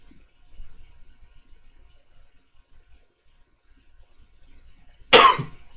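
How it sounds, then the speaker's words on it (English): After several seconds of near silence, a single sharp, close cough bursts out near the end. "Sorry for the cough."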